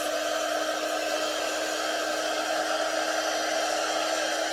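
A hair dryer blows on a Chalk Couture ink craft project, giving a steady, even whoosh of airflow with a motor whine, close and continuous, with no voices.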